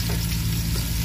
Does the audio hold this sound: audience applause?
no